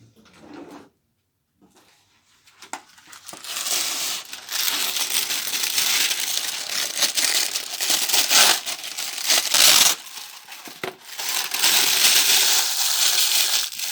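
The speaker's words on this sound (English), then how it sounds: "with our baking parchment, we scrunch it up first." Baking parchment is scrunched into a ball by hand for lining a quiche pastry case, making loud, close crackling and crinkling in uneven bursts with short pauses between them.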